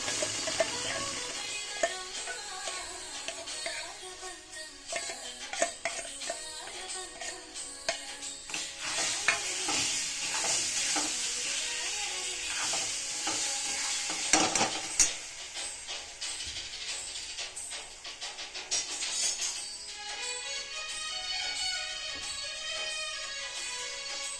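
A spoon stirs mango pulp and sugar in a pan on the stove for a sweet filling, giving soft repeated scraping and a light sizzle close by, with no talk.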